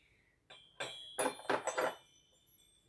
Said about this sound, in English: things like this, which are bells on a rope